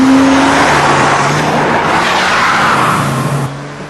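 A Porsche driven with traction control off, rear end sliding out as the tires squeal loudly and continuously under a roaring engine, close and intense before easing slightly at the end.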